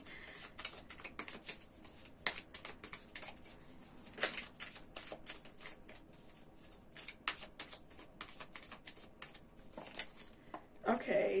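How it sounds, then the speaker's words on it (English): A deck of tarot cards is shuffled over and over, with soft, rapid papery flicks and riffles at a quiet level, interrupted by a few sharper snaps. "Okay, those are a lot of cards, so I'm going to keep shuffling."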